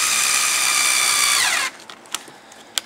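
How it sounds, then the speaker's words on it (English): A power drill whirs steadily while driving a small screw into an RC car transmission mount, then winds down and stops, followed by a few light clicks and taps of handling. "I'm going to go ahead and fasten this down right now. It's just 4 little screws on each side"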